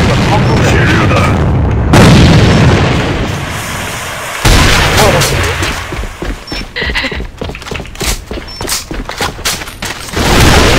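Booming grenade blasts and gunfire in a video game, loud explosions punctuating a fast firefight with rattling shots, while players talk over the action.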